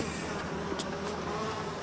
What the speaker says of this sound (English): There's a lot of bees. Like a lot.